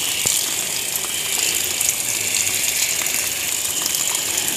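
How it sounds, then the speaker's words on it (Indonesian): Water gushes steadily as an aglaonema pot with porous premium potting mix is generously watered, a continuous loud splashing pour with no pauses. "Kita siram kocor banyak supaya basahnya benar-benar rata ya"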